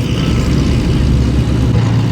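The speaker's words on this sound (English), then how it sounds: "We're gonna go ahead and fire up the GTS" A GTS sports car engine firing up, a loud close-up engine roar that settles into a steady rumbling idle, with no voices.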